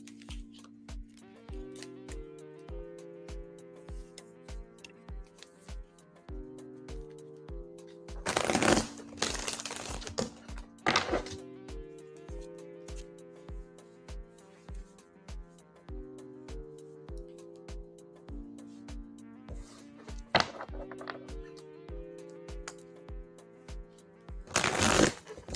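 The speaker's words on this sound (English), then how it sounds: "Shuffling for you now." Tarot cards riffle-shuffled in a few brief, crisp bursts of rapid flutter, spaced apart and sitting over steady background music with a ticking beat.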